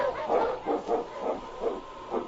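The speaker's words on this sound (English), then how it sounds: "The Wonder Dog King, swiftest and strongest of Eskimo lead dogs, blazes the trail through storm and snow for Sergeant Preston" Sled dog barking in a radio drama sound effect: a steady string of about seven yips and barks in even rhythm, fairly close, over a faint storm-like hiss.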